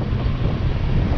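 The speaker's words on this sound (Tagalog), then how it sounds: "Umaga, ang sarap ng weather, ang simoy ng hangin." Wind on a mountaintop roars steadily across a microphone during a morning motorcycle ride, a constant close buffeting with no voices.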